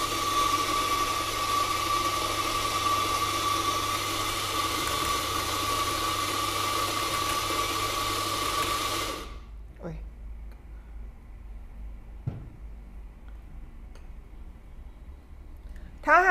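An espresso machine pump pulls a shot of about 16 to 20 grams of coffee for a blended frappé, a steady loud mechanical hum running for roughly nine seconds, then cutting off abruptly, leaving faint clicks and low room noise.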